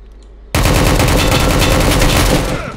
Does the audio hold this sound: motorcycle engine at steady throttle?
no